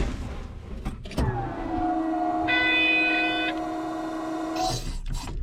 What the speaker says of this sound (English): what you're hearing there is a supplemental steering pump.